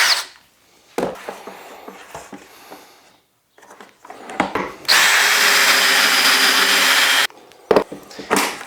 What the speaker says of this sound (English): Let's get to drilling pocket holes.